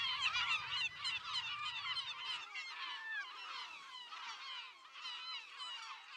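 A dense chorus of honking, goose-like bird calls fills a nesting sanctuary on Tonlé Sap, many overlapping voices carrying on continuously and fairly close, with a low rumble underneath at the start.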